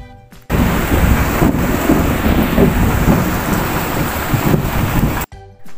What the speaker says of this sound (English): Yes, it is a sound of a thunder.